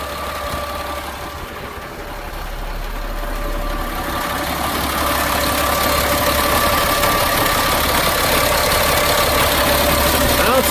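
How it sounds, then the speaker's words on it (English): A 2000 Freightliner FL70 diesel truck engine idles steadily for several seconds with a low, even rumble and faint knocking rhythm, growing slightly louder toward the end. "It's a strong running engine. Sounds really good."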